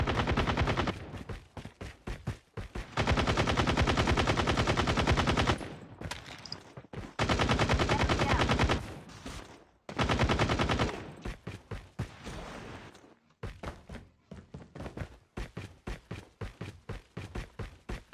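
Rapid automatic gunfire from a shooting video game, long sustained bursts alternating with shorter volleys and single shots, loud and close throughout with brief gaps between.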